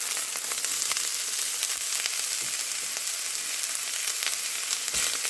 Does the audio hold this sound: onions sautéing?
yes